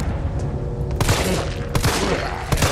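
Gunfire in the Resident Evil 3 video game, several sharp shots in bursts roughly a second apart over a steady dense background of game noise, loud and close.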